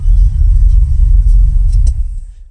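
A 1973 Chevrolet Caprice convertible with an LS3 engine, long-tube headers and 2.5-inch Magnaflow exhaust idles with a deep, loud, close rumble that fades slightly at the end.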